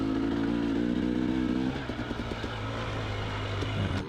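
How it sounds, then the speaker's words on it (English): Two-stroke motorcycle on a desert hill climb, its engine revving loudly and continuously up close, with a buzzing high-pitched drone that rises and strains as the throttle opens. "you actually have to give it some gas and rev it up a little bit to get some of"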